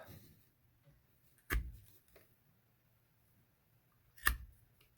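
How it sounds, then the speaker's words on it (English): Two sharp snips of an 8-in-1 wire tool cutting the strings off an electrical cord, one early and one near the end, each alone against a quiet background. "I can take and cut these off"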